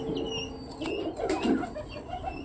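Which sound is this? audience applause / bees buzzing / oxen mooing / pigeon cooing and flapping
pigeon cooing and flapping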